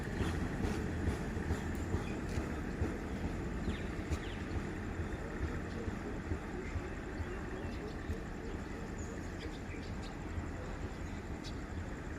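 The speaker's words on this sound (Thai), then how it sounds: "มาอีกแล้วครับ รถไฟนะครับ อีกหนึ่งขบวนนะครับ" A train rumbles past on the rails, a continuous low roar with faint clattering, heard from a short distance.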